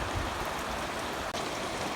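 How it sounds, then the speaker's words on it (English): Steady heavy rain falls outdoors by a pasture creek, bridge and culvert, a dense continuous wash of drops close around, loud and unbroken, with no talk over it. "Yeah, it's raining."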